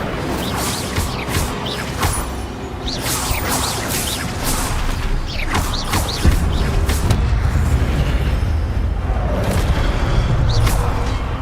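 Incendio fire spell cast in Hogwarts Legacy, a dense roaring burst of whooshing flames and booming impacts that keeps rumbling loudly throughout amid scattered crashes and mechanical clatter.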